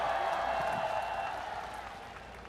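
Applause and cheering from a large crowd at an outdoor Korean presidential election rally in Yeouido, a broad steady wash of clapping that slowly fades, with no one speaking.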